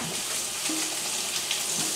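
Short ribs sear in a hot skillet with a dense, continuous sizzle, close and steady, with faint shifts as the meat settles in the fat.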